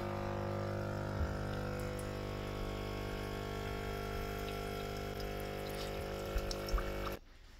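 A Tommee Tippee Perfect Prep baby formula machine primes, pumping water with a steady mechanical hum and trickling flow for several seconds, then cutting off abruptly.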